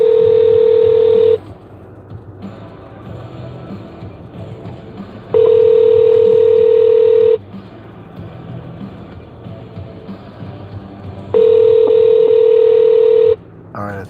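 Ringback tone of a call to a cafe: three long steady rings, each about two seconds with roughly four-second gaps, loud and clear over quieter engine-like background noise.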